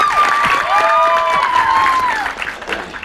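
An audience at a Gujarati gathering breaks into loud applause mixed with cheers and shouts, a dense steady burst of clapping that thins out toward the end.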